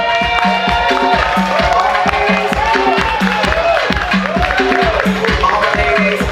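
A crowd at a football club fundraising gala claps and cheers steadily, a loud dense wash of applause with rhythmic thumping music running underneath throughout.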